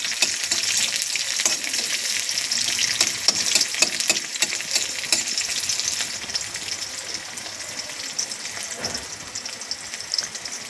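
Chopped onion sizzling and frying in hot oil with five-spice seeds for a fish head and tomato curry, a steady close crackle with occasional stirring, no voices.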